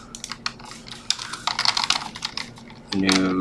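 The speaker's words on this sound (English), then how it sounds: "So what I would do is just type it in." Fingers type on a computer keyboard in quick irregular bursts of close clicking and clacking, then a voice starts speaking at the end.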